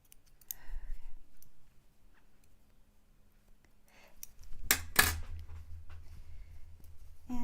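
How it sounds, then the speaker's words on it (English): Scissors snip off extra threads after sewing a pair of pants, giving a few quiet, sparse clicks and snips over soft room noise, with a louder handling clatter near the end. "Let me trim off all my extra threads."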